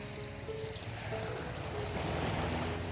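Calm sea waves wash steadily against the shore in a soft, continuous surf, with light wind noise on the microphone and a faint tonal hum underneath; no one speaks.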